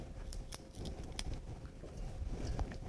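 Scissors snipping rose hip stems for an autumn floral centerpiece, a few crisp close cuts scattered across a few seconds over faint rustling.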